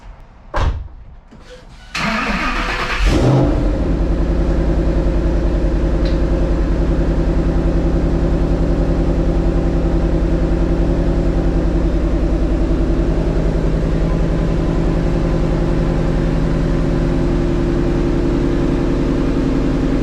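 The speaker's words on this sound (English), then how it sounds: "let's go ahead and do a cold start on this car" A 2020 Shelby GT500 cold-starts after a car door thuds shut: the starter catches, the supercharged engine flares loudly, then settles into a steady, deep rumbling idle that continues close by with no talk.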